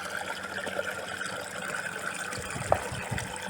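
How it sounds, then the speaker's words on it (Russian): Water flowing steadily from a newly drilled Abyssinian well on a high hilltop, a soft continuous trickle and gush at close range with a small splash near the end. "И вода тут пошла."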